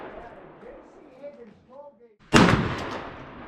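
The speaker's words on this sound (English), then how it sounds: "We have the Winchester 1600 foot per second 2 3/4 inch slugs. We'll be shooting those with the laser on target." Winchester 2 3/4 inch 1600 fps slug fired from a Charles Daly Honcho tactical semi-auto shotgun: a single loud, close blast after a few seconds of quiet talk, with a short ringing tail.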